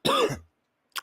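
A man coughs and clears his throat once, a harsh close burst that trails off, followed by a short faint throaty sound after a brief silence.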